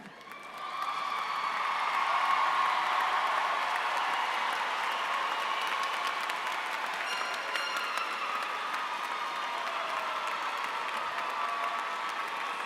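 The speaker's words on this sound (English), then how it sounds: "I want you to turn to the side and applaud your family and friends for getting you here today." Steady, sustained applause from a large audience at a 2018 Rutgers School of Social Work convocation ceremony, rising quickly at the start and continuing evenly throughout.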